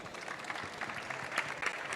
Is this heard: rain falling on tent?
no